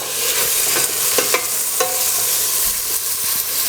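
Diced tomatoes hit browned onions frying in a pan for a mushroom and capsicum sabji, with a loud, continuous close sizzle broken by several sharp spoon scrapes while stirring.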